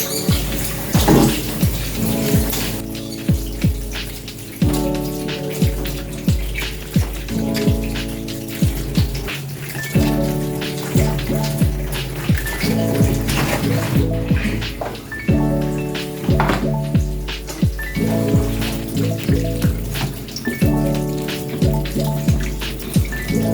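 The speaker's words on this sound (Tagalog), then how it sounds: "Hugasan nga natin ito mabuti dahil marami nga siya mga lupa-lupa." Pansit-pansitan (peperomia) leaves are rinsed in running water to clear off soil, with loud, continuous splashing and pattering close by and a constant harmonic hum underneath.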